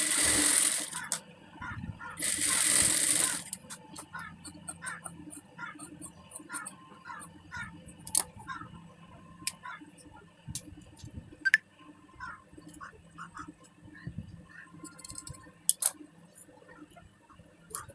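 A home sewing machine stitches a blouse front with lining, a size 38, its rhythmic ticking pulses running on and off. Two loud bursts of whirring come early, then quieter clicks and snips follow with brief pauses.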